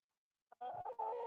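Ex-battery egg-laying hens at a farm sanctuary give a short, close clucking call after a brief silence.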